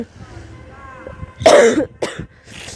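A woman coughs a few sharp times close by, a loud burst followed by two shorter ones, after a stretch of quiet background murmur.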